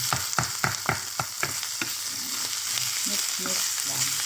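Pasta sauce with tomato paste being stirred in a hot pan, a run of sharp spoon knocks and scrapes at the start giving way to a continuous close sizzle, no voices.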